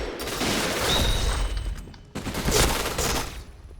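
Gunfire from an MPT-76, a Turkish rifle, in the video game Point Blank: loud, close, rapid bursts run across most of the stretch with a brief pause midway, and no talking.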